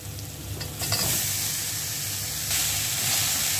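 Ground green chilli paste hitting a pan of fried onion with turmeric, a steady hissing sizzle that flares sharply twice as it is added and stirred, close and fairly quiet, no voices.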